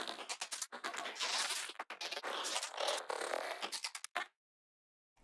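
A plain granular source sample for a psytrance synth preset, heard without its filter, playing as a dense, crackly, continuous texture for about four seconds with brief dropouts before it cuts off into silence.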